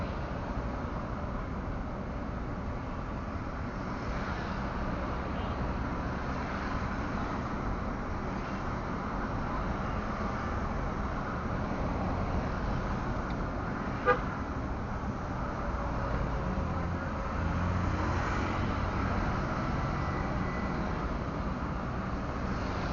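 Steady roar of busy road traffic with engines passing continuously, and a brief horn toot partway through.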